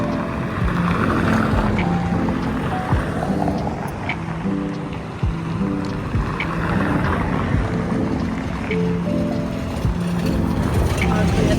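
Boat engine drones steadily as the vessel crosses open water, with wind buffeting the microphone throughout; people talk over the constant hum.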